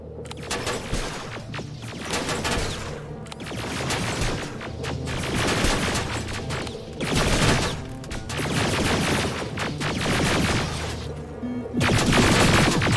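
Bursts of rapid gunfire and explosions crackle in Terminator Resistance, the Annihilation Line DLC, loud and repeated in waves with short lulls between volleys and no speech over them.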